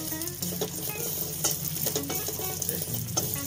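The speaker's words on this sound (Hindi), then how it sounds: "तो देख सकते हैं खसखस हमारी चटचटाने लगी है घी में" Poppy seeds fry in hot ghee in a pan, giving a steady close sizzle with faint crackles and occasional stirring scrapes, with no talking.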